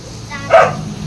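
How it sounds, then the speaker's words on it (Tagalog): A single short dog bark rings out, close and loud, over a low background hum. "Ayun, tumatahol oh."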